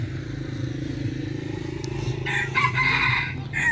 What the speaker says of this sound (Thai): นี่ไก่ต่อเด้อ